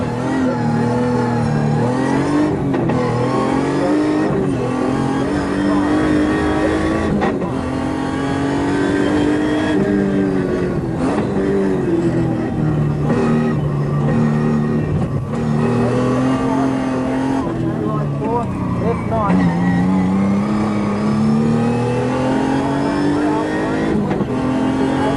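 A 1988 V6 Nissan rally car heard from on board at speed, its engine loud and continuous, rising and falling through revs and gear changes.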